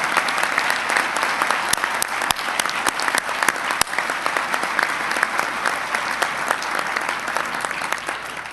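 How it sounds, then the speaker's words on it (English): A crowd applauds loudly at a New York governor's announcement of a high-tech manufacturing complex, with dense, sustained clapping throughout and a few sharp louder claps standing out. "Let's give them a round of applause."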